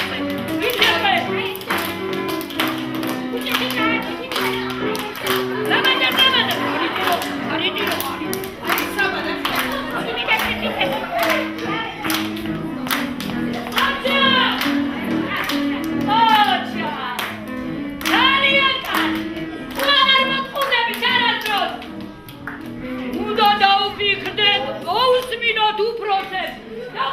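Children clap their hands in repeated bursts at a New Year party, the clapping mixed with busy music and kids' voices, loud and close throughout.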